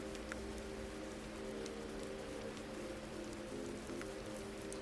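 Rain falls steadily in an alley as a soft, even hiss with a faint low electrical hum beneath it, with no voices.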